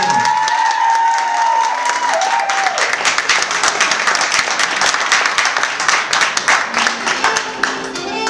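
A pageant audience at the Miss Wellness Beauty 2014 NL finale bursts into loud, dense applause with some cheering for a contestant stepping forward, the clapping thinning into more distinct claps toward the end.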